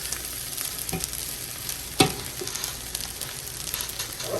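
Beef fried rice is stir-fried and folded over in a pan, a constant near sizzle with soft scraping strokes and one sharper knock midway.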